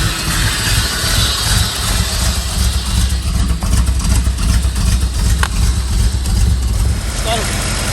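Third-generation Camaro engine fitted with an aluminum radiator and electric fan running steadily at idle, a loud continuous low rumble throughout with people talking over it.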